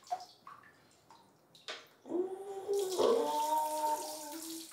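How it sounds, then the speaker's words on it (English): Water pours into a bathtub, a steady rushing stream that starts around the midpoint and runs loud to the end after a few faint knocks and splashes. "finally, after 8 minutes of nothing, Joseph decides that Aaron should film him taking a bath"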